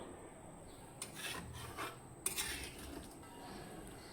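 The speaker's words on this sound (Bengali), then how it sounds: "একটু জলগুলো দিয়ে নিয়ে নাড়ায় নিব ভালো করে।" Chicken and potato curry with added water stirred in a pot, quiet rasping scrapes of a spatula against the pot bottom in a few short strokes, close and soft, no speech.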